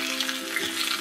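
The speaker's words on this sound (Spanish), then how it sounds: "Aquí en la cacerola vamos a poner también el tomate a freír para que se ponga suavecito" Tomato and onion frying in a pot, a brief steady hiss of sizzling oil heard close, even and unbroken, with no voices.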